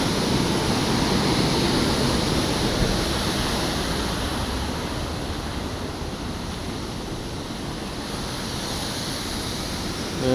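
Water pours down from Takali dam toward the village river, a steady, loud broadband rush that holds evenly for the whole stretch with no voices.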